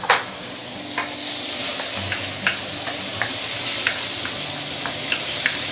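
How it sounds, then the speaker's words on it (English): Spring onion, garlic and fermented chili sizzle in a hot stir-fry pan, a steady close hiss broken by sharp spatula scrapes and clinks every second or so, with no talking. "we can start putting the spring onion and also the garlic and also the fermented chili"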